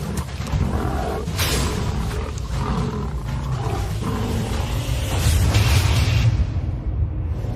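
Tigers roar and snarl in a violent fight, a continuous loud, dense stream of growls and bellows with deep rumbling low end throughout, swelling louder near the end before easing off.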